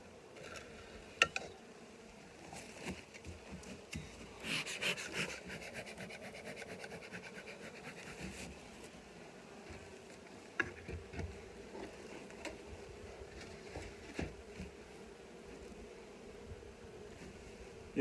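Honeybees buzz at a hive entrance in warm weather, a faint, continuous hum with occasional light rubbing and tapping sounds close by.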